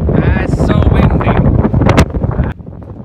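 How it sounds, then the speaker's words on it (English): Strong wind batters the microphone on a beach at Byron Bay, Australia, a loud, roaring rumble that gusts unevenly and drops away abruptly near the end, with a voice briefly mixed into the buffeting. "It is very windy on the beach."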